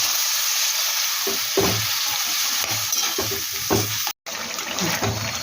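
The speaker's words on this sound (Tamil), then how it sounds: "நல்லா இந்த தக்காளி இந்த எண்ணெயிலே நல்லா வதங்கி குழையணும்." Tomatoes fry in oil for a quick tomato pickle, a steady close sizzle with soft rhythmic stirring knocks and scrapes against the pan, briefly cutting out for a moment.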